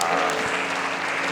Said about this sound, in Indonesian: Berikan tepuk tangan yang santai.